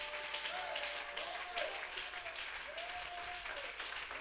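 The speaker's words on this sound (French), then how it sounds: "Donnons l'acclamation au Seigneur." A church congregation applauds during a service, a fairly faint wash of clapping with a sustained tonal voice or instrument line gliding over it at moments.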